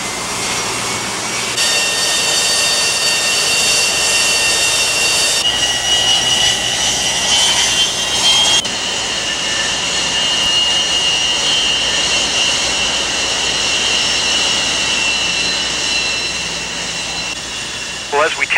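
Jet aircraft engines roar steadily and loudly close by while the plane taxis on a carrier deck, with a constant high-pitched whine and broadband rush that persist throughout.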